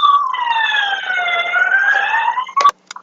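Wailing siren heard faintly through a phone line, a steady rising-and-falling electronic tone that holds for several seconds before cutting off with a few abrupt clicks at the end.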